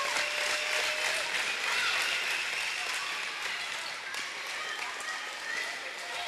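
Crowd cheering and clapping in a college volleyball gym during an Elmhurst versus Illinois Wesleyan match, a steady, fairly quiet roar that holds throughout with faint voices mixed in.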